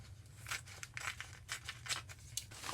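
Scissors cut the tails of a yellow satin ribbon into a point, making a series of crisp, quiet snips at a steady rhythm, close by.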